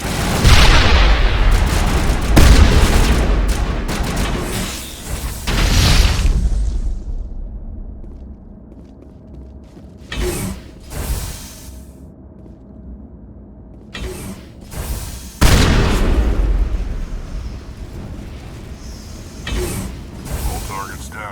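Explosions from the Mass Effect: Legendary Edition video game at Noveria's Peak 15 facility: heavy booms in several loud bursts separated by quieter gaps, with mechanical creaks between them.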